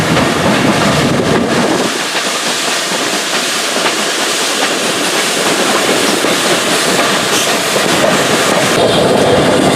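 A heritage train rolls steadily along the rails at Didcot Railway Centre with a continuous rumble, hiss and clatter, close by and fairly loud throughout.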